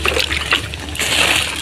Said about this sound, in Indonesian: Kita siram-siram lagi, kita siram-siram ya, kita siram-siram secara merata.